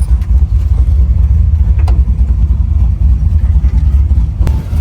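A big block Chevy 540 V8 in a 1980 Malibu street cruiser runs loud and close, a steady deep engine roar holding throughout with small surges and no talk.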